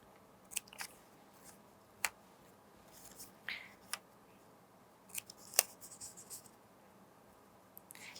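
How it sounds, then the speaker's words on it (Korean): Paper being cut with scissors along drawn lines while making a balloon helicopter craft, heard as a handful of sharp, close snips spaced irregularly over a quiet background. "자, 여기 이렇게 그려진 부분을 잘라주세요."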